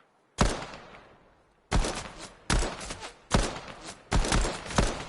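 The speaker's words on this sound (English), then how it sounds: "I got a freaking charge shotgun." A charge shotgun in Fortnite fires five heavy, booming blasts, each with a sharp attack and decaying tail, first one alone then four in a quicker, fairly even rhythm.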